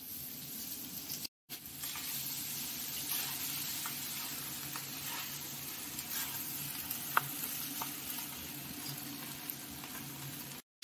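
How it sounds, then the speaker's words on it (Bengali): Boiled rice being stir-fried with already fried vegetables for veg fried rice, a steady broadband sizzle with occasional scraping stirs and a brief gap near the start, close and continuous with no talking. "চাল ঢেলে এইভাবে মিশিয়ে নেওয়া হচ্ছে"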